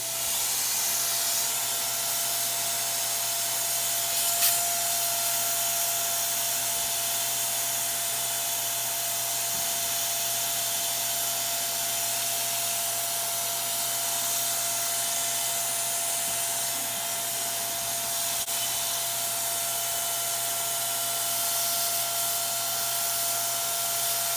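A Dust Daddy vacuum attachment cleaning dust from a space heater, a steady loud whining motor hum with airy suction hiss running unbroken throughout.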